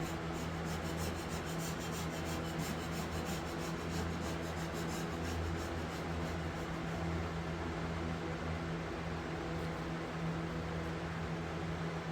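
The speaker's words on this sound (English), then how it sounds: "Scraping away." Paint being scraped off an antique Hoosier kitchen cabinet, a steady, soft rasping scrape that continues evenly and fairly quietly, with no talking.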